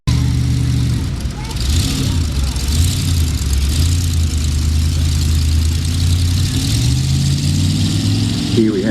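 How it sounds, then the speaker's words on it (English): A small Sato S401 Japanese rice paddy tractor engine chugs steadily at low revs at a field day, a continuous drone with someone talking over it. "Then we have a little Japanese rice paddy tractor."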